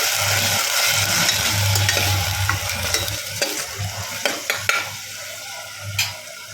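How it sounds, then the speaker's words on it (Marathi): Ground spice paste sizzles in a pan while goat head curry cooks, a steady hiss and bubble joined by scraping stirring strokes and clicks of the spoon in the later seconds. "वाटण इकडे छान असं शिजत आहे"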